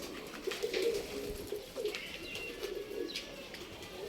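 Domestic pigeons coo steadily in a loft where young birds are being raised, a soft rolling murmur close by with a few faint chirps and a brief flutter of wings, no talking.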